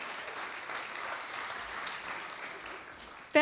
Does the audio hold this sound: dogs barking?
no